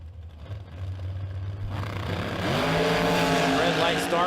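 A dragster launches at a bracket drag race: a low idle rumble gives way to a sudden roaring acceleration that swells and stays loud as the car runs down the strip.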